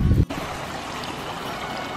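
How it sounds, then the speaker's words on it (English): Small clear creek flowing near a free campsite at Mount Buller, Victoria, a steady close babble of running water filling the whole stretch after a brief louder bump at the start. "the little river, little creek is just down there"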